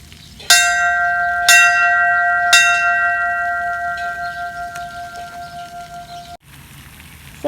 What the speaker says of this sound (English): there's a huge bell here